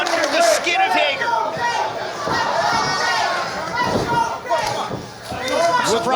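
A crowd chants loudly and continuously at an MLW professional wrestling match, with commentators talking over the noise.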